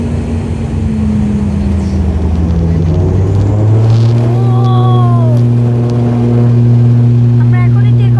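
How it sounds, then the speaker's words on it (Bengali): Jet engines of a passenger airliner from Cox's Bazar to Dhaka (Novoair) roar loudly and steadily, their pitch climbing as the plane speeds up for takeoff, heard from inside the cabin. "আমরা এখনই টেক অফ করবো।"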